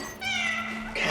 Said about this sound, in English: cats can be stroked